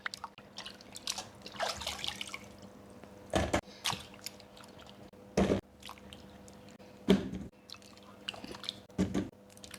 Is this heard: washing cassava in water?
yes